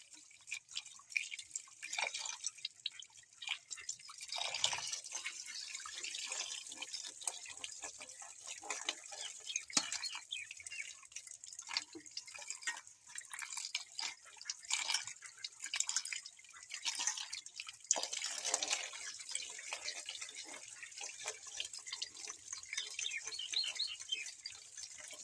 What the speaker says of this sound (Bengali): তো মাছগুলো এখন ধুয়ে নেবো।